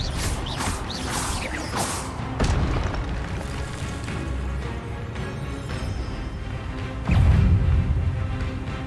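Expelliarmus and other spells are cast in the video game Hogwarts Legacy. They sound as repeated magical whooshes and booming bursts with mechanical creaks, ending in a loud low impact near the end, with no talking.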